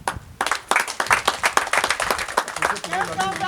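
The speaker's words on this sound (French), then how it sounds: "On peut acclamer pour eux." Audience applause at an Irish NGO association event, a sustained wash of clapping from a crowd that continues steadily for several seconds while voices carry over it.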